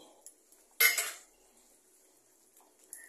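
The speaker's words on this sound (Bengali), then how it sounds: "এবারে যে মাছগুলো যাচ্ছে সেটার মধ্যে দিয়ে দিচ্ছি।" Fish going into a mustard sauce in a pan: one sharp clatter of a utensil against the pan, close and fairly loud, then near quiet with a few faint clinks.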